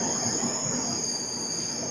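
Uday Express double decker train on the Visakhapatnam–Guntur route arriving at Duvvada platform 1, a faint, sustained high metallic wheel squeal over a low rolling rumble, steady with no speech.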